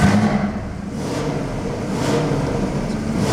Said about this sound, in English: So just for like an exhaust comparison, like this is the Tour.